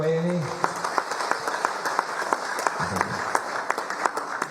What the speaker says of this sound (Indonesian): Tepuk tangan untuk Mbak Yeni